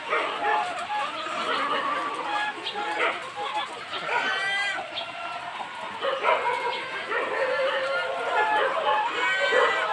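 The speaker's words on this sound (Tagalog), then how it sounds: "Ingay ng mga alaga naming aso." Several dogs barking and yapping excitedly at close range on a rainy poultry farm in Surigao, Mindanao, overlapping and continuous, with some chatter in the background.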